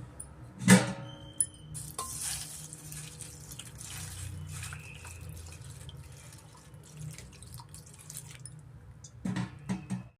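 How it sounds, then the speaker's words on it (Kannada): Mysore dal lentils washed under running water from a tap, a steady close splash and trickle with a few clinks of a vessel at the start and end. "ಮೊದಲಿಗೆ ನಾವು ಮೈಸೂರು ಬೇಳೆನ ನಾವು ವಾಶ್ ಮಾಡ್ಕೊಬೇಕಾಗುತ್ತೆ."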